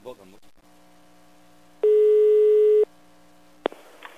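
A single steady telephone busy tone sounds for about a second on a prank phone call after the other party hangs up. Brief voice fragments and clicks can be heard around it.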